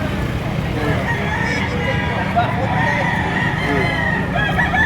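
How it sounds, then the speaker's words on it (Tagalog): Chickens at a poultry sale, a pullet and a cock, give off clucks and crowing amid a busy, noisy crowd of voices. The birds sound fairly close but are partly masked by the talk. "Isang pulet at isang kak na ito."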